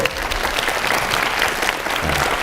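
University students at a city-policy lecture break into sustained applause, a steady dense clatter of many hands filling the room for the whole stretch with no speech over it.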